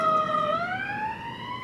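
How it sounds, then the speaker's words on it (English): An emergency vehicle siren wails past with a steady tone that rises in pitch as it goes by, loud and close over low traffic rumble, with no talk. "So I'm letting the siren just go past there."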